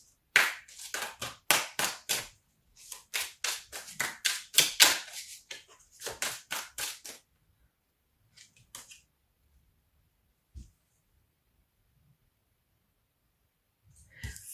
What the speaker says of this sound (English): I do shuffle like a maniac